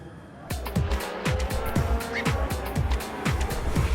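DTM race cars at the Spielberg circuit in Austria, a rapid series of loud engine passes, each sweeping down in pitch, with an announcer's voice faintly in the background.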